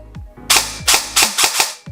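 A Zion Arms R&D Precision PW9 Mod.1 airsoft electric gun with an electronic trigger fires in semi-automatic mode, producing a few sharp, loud snapping shots in quick uneven succession, close and alone.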